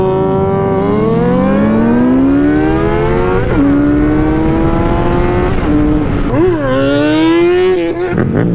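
A sport motorcycle's engine revs hard through a wheelie, its loud, steady whine climbing in pitch with several brief drops at gear changes. The bikes present are a Honda CBR 600, Suzuki GSX-S 750, Yamaha MT-07 and Honda Grom.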